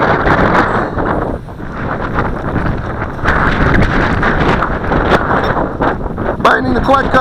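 Strong outdoor wind buffeting a microphone on a windy day of flying a Syma X8C Venture quadcopter, a loud, continuous rumbling roar with gusts, as someone talks over it.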